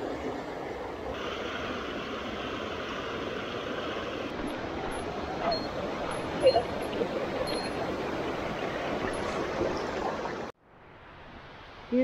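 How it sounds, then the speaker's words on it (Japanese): A mountain waterfall and stream on a spring hike up Ryugatake in the Suzuka Mountains, a steady broadband rush of falling water close by that fills the scene and cuts off abruptly near the end. "ここにも滝が。"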